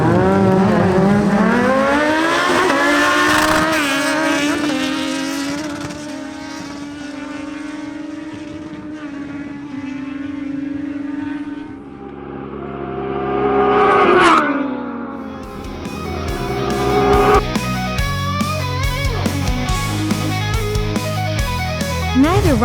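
A Kawasaki Z900 and a Kawasaki Ninja Z1000SX drag race: loud engine roars climb in pitch through repeated gear changes, dip, then surge again as the bikes rev hard and accelerate away.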